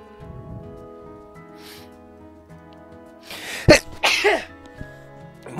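A single sharp human sneeze bursts out mid-clip, followed by a shorter snort or cough, over quiet background music.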